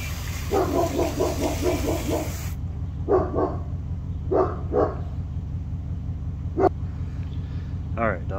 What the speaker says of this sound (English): All right, dog started going crazy there again.